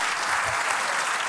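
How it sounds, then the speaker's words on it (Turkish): Audience applause for a Turkish classical music choir, a steady, dense wash of many hands clapping continuously without a break. "Alkışlar Bahçeli Evler Türk Sanat Müziği Korosu için"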